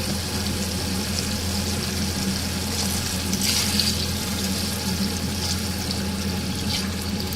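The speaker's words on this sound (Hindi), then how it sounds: "अब हम इसके अंदर अपनी यखनी शामिल करेंगे।" Yakhni (meat stock) poured into fried beef in a pot for beef pulao, giving a steady, continuous rush of liquid with a sizzling wash for several seconds, close by and with no talking.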